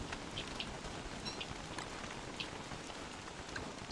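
Steady rain falls in the Don't Starve Together survival game, a constant soft hiss with faint scattered drops, quiet and unbroken.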